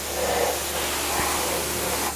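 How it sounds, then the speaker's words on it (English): Meguiar's hybrid ceramic is sprayed onto a car, a steady close hiss of the spray nozzle running continuously without pause. "let's spray this"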